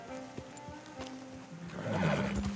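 A horse whinnies in Red Dead Redemption 2, a loud, rising neigh near the end that follows softer game ambience and a few hoof-like thumps.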